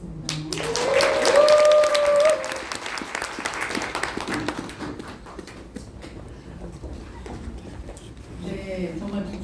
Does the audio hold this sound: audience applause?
yes